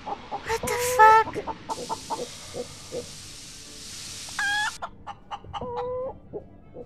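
A chicken in the space survival game Breathedge, clucking in short repeated bursts and squawks spread across the stretch, with a brief steady tone in between and quiet background.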